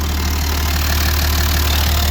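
A 1986 Perkins turbo diesel engine in a 4x4 running steadily after a cold start, a loud close rumbling idle with a constant low throb and no pauses.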